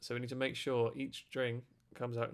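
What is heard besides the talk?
No everyday noises stand out.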